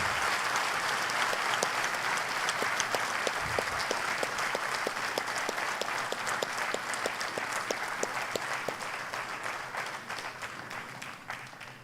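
Steady applause from a large audience at a Congress party convention, dense clapping that stays loud throughout before easing slightly toward the end.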